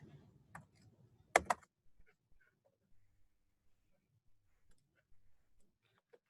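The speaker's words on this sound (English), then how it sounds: "typing it into Desmos real quick" Sparse keyboard typing, a few scattered key clicks with short pauses between them, close and fairly quiet.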